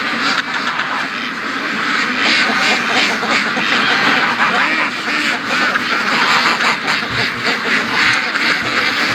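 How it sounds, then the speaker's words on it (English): Ducks quack continuously in a dense flock on a foggy morning, many overlapping calls close by and steady loud chatter throughout. "See, the fog, the ducks don't like the fog."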